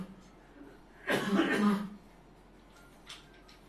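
A single throat-clearing cough bursts out loud and close for about a second, then quiet room tone follows with a faint short noise near the end.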